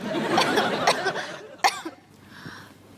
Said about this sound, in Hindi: ये खांसी तो जा ही नहीं रही।